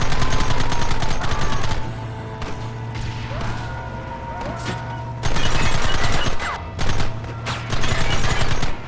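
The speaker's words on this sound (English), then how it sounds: "I think I'm shooting the roof of the vehicle." Rapid gunfire in the Red Dead Redemption video game, dense volleys of shots in loud bursts separated by a quieter stretch, with a rumbling engine underneath.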